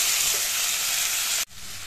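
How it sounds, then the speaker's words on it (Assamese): Chicken frying in a pan with cumin, coriander and salt, stirred as it cooks: a loud, steady close-up sizzle that cuts off abruptly near the end, then returns more quietly. "এইখিনি এনেদৰে তলপৰ কৰি মই লৰাই লওঁ।"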